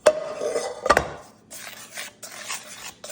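Spices for homemade breakfast sausage being mixed in a bowl: a couple of sharp clinks of utensil on the dish, then softer scraping and stirring strokes in an uneven rhythm, close and with no talk.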